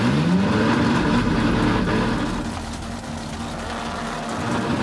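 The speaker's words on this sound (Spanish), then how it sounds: "cargo mi launch 4500 y se siente que el carro va con todo" A Nissan GT-R R35 drag race car holds a loud, steady launch-control rev at about 4500 rpm on the start line, the engine droning continuously throughout with no talking over it.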